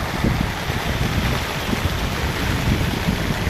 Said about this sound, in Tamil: இன்னும் மழை